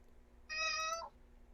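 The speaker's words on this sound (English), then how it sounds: "That was an angry meow" A pet cat lets out a single short, harsh meow at close range, rising and then dropping at the end, against a quiet room.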